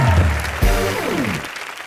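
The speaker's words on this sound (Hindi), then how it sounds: "महाराज अशोका के लिए जोरदार तालियां हो जाएं।" A comedy show studio audience applauds loudly for a performer in costume as an emperor, a dense clapping wash that fades slightly near the end, layered with music.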